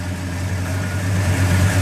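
A big American 440 cubic inch V8, roughly 7.4 litres, idles steadily with a deep, even low rumble that holds close and fairly loud throughout, with no voices.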